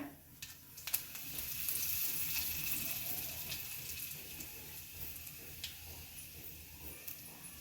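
Curry leaves hit hot oil already seasoned with turmeric, giving a quiet, close crackling sizzle that swells after a few small pops, then settles into a soft steady fry.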